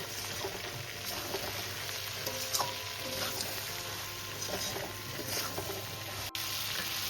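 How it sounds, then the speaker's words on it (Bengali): Mixed vegetables with tomato and Kashmiri chili powder lightly fry in a pan for arhar dal, giving a soft, continuous sizzle with occasional stirring scrapes and no talking. "এবার আমি সমস্ত কিছু একটু হালকা ভেজে নেব।"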